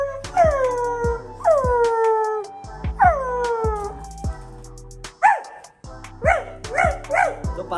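Several dogs howl in long falling wails, then switch to short sharp barks and yips, loud and close in a rapid string.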